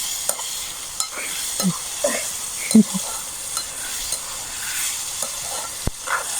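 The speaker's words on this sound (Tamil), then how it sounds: "இறால் வந்து நல்ல வடிவா பொரிஞ்சுது" Small prawns frying in a pan for a prawn curry, with a soft steady sizzle and a few stirring scrapes and clinks scattered through, close and moderately quiet.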